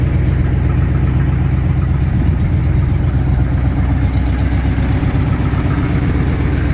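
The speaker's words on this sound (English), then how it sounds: "Do the old typical exhaust sound in case anybody wants to hear my dual exhaust" A 1986 Chevy K30 Silverado pickup's 305 V8 idles through dual exhaust, a deep, steady rumble with a low, even throb, loud and close, with no talking throughout.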